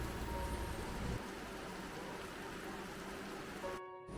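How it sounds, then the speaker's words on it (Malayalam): Faint, steady rainfall hisses evenly throughout at a railway station platform, soft and distant, cutting off abruptly near the end. "മഴ ഇപ്പോഴും പെയ്തുകൊണ്ടിരിക്കുകയാണ്"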